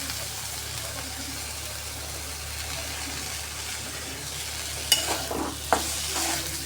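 Potatoes and peas sautéed in oil for samosa filling, a steady low sizzle with a few sharper scraping stirs near the end, fairly quiet and without talk.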